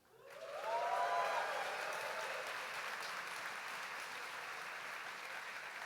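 A morning conference audience at an AI summit bursts into loud applause with whoops and a brief whistle, swelling quickly and then holding as sustained, hall-filling clapping.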